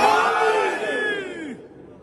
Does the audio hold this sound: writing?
no